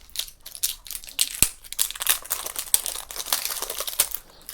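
Crinkly plastic packaging of a helmet cleaner product being torn and opened close by, a run of irregular crackling rustles and crumples with sharp snaps, no talking.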